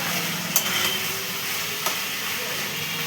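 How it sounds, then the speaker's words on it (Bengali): Ingredients being stir-fried in a pan, a steady sizzling hiss with a couple of sharp clicks from the spatula scraping the pan. "এবার একটু কষাতে হবে, এটা দিয়ে কিন্তু ভালো করে কষাতে হবে"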